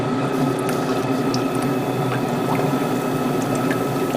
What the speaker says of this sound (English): Somehow the flow, the airbrush is too low.